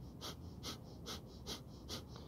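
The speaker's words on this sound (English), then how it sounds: "it's like a dog panting, but through the nose." Breath of fire, rapid rhythmic yoga breathing through the nose, about five even puffs a second, quiet and close, with no talking.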